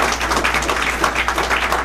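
An audience at a community gathering claps and applauds for a brother Antoine, steady dense clapping throughout, moderately loud with no distinct voices.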